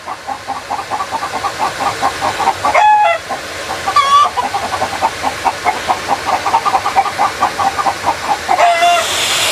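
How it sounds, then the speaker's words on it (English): A flock of farm chickens clucks constantly in quick, rhythmic bursts that overlap without pause, with a few louder squawks standing out from the busy chorus. "This is the most vocal flock of chickens I think I've ever seen in my life."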